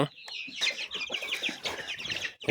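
A small flock of farm chickens, including young birds about 35 days old, cluck and chatter close by while being given water; the calls are busy, overlapping and fairly loud, with no speech.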